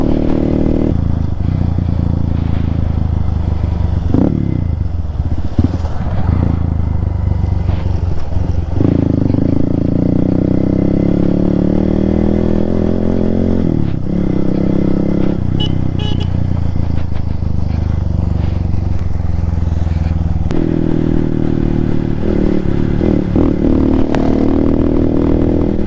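A Hero Xpulse motorcycle with a rally kit exhaust rumbles loud and close, its engine note rising and falling through several revs with rattling clatter, and brief pauses between bursts.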